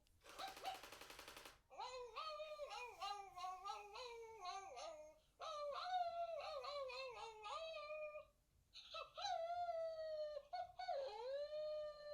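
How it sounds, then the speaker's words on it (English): A WowWee Mintid Dog-E robot dog plays a series of recorded barks through its small speaker, opening with a tuneful, pitch-sliding bark and followed by bursts of yips and howl-like tones, faint and thin with brief gaps between phrases. "I've put a series of barks in there, starting with a tuneful one"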